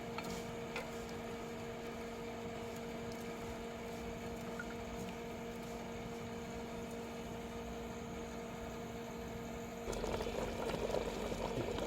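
Savaiya vermicelli simmers in water in a pot, a quiet steady bubbling hiss with a faint hum, growing slightly louder near the end; no talking.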